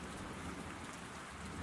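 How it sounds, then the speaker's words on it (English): Rain falling as an audio drama effect, a steady dense hiss of drops with a faint low rumble beneath, even and continuous throughout, no voices. "until the drizzle turned into rain"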